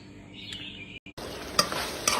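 Pork belly stir-fried with bamboo shoots and southern Thai curry paste in a hot pan, a close steady sizzle with scraping spatula strokes and a couple of sharp metal clinks, no speech.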